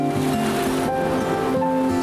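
Ocean waves wash onto a shore in a steady, close rush of surf that fills the whole moment, with a soft background tone beneath and no clear breaks between swells.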